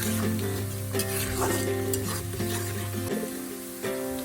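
Sliced onions frying in oil in a pan until light brown while being stirred: a close, dense sizzle with busy scraping and stirring throughout that eases slightly toward the end.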